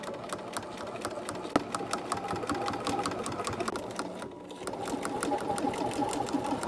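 A sewing machine stitches down bias binding on a Barbie Swan Lake inspired dress, a steady rapid needle chatter running close and fairly loud throughout, with one brief pause near the end before it resumes.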